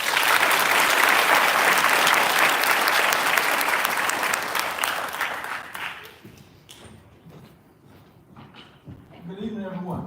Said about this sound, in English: You all put your hands together for a round of applause for our leader